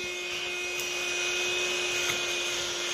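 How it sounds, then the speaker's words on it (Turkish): A mini desktop vacuum cleaner runs over a computer keyboard, giving a steady, close, high-pitched whirring motor hum that holds constant for the whole stretch with no talking. "Hem bu elimde gördüğünüz mini bir masaüstü süpürgesi."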